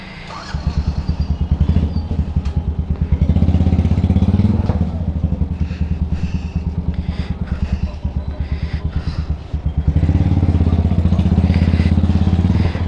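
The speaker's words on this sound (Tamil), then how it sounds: "இப்போ இந்த பைக் நம்ம ஒரு ரவுண்டு ஓட்டி பார்க்கலாம்." A motorcycle fitted with an aftermarket exhaust is ridden for a short round. The engine note is loud, close and continuous, with a rapid thumping pulse that rises and falls through throttle changes, and there are brief surges near the start and end.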